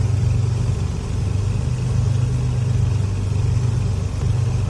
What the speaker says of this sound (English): I do like the sound of the engines